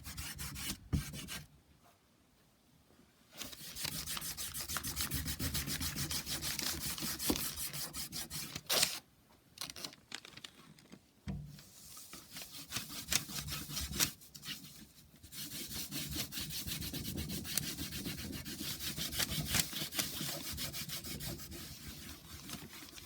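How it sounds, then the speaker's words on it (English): A rag is rubbed over a wooden church window insert to apply wax, producing close, continuous scrubbing and rasping strokes in a busy back-and-forth rhythm with a few short pauses. "I don't think you want a lot of wax on your rag when you're applying it."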